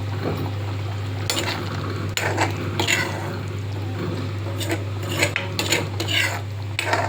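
A pot of Chettinad pumpkin kara kuzhambu boils on the stove, giving a continuous bubbling hiss broken by several sharp metallic clinks of a spoon against the pot, with no one talking.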